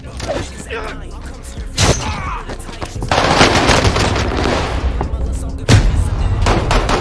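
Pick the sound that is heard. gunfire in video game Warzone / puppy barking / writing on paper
gunfire in video game Warzone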